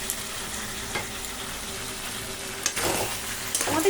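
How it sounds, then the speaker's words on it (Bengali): Cashews and raisins sauté with spices in a pan for winter vegetable khichuri, giving a steady, close sizzle and frying crackle with a few louder stirring scrapes near the end. "তো আমি এই মশলার সাথেই কষিয়ে নেব।"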